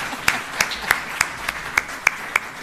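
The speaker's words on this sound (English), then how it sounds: "I'm going to ask the audience to join me in applauding you" Sparse, evenly spaced claps ring out in a steady rhythm from a small part of an audience at a UN Day flag raising ceremony in Jamaica, the individual hand claps distinct and moderately near.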